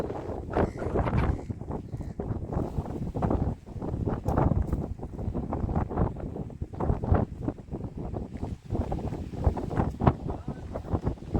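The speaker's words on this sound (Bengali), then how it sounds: "বাবা, হাওয়া দিচ্ছে আজকে সেরকম, পুরো ঝড় হচ্ছে।" Storm-strength gusts buffet the microphone in heavy, uneven rumbling bursts that rise and fall throughout, loud and close, while fishing for fish and crabs in the Sundarbans.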